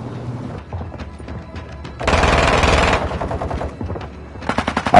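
Automatic gunfire in the Warzone 2.0 video game comes as rapid bursts of shots, with a loud dense volley in the middle and sharp separate shots at the end, with no talking.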